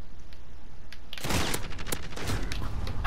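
Gunfire in Call of Duty Modern Warfare: a dense burst of rapid, loud shots begins after a quiet start and keeps rattling to the end, with sharp cracks over a steady rumble.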